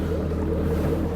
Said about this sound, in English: you can hear my engine right now out of the water